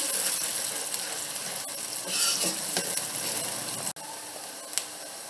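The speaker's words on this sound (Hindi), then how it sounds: "बारीक चॉप किया हुआ प्याज डालिएगा और इसे हम थोड़ा सा सौते करेंगे" Finely chopped onion sautés in a pan for kadhi pakora, sizzling steadily up close while a spoon stirs and scrapes, with a few brief clinks.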